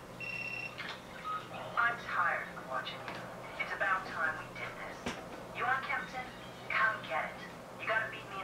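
A brief electronic phone ring sounds at the start during Need For Speed Carbon gameplay, then gives way to voices talking.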